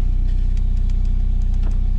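Volkswagen Golf 3 GT 110 idles in the open with a free-flowing straight exhaust, a loud, steady low engine rumble with even pulses and a faint extra tick or two, no voices.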